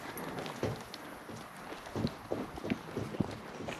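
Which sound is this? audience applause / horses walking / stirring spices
horses walking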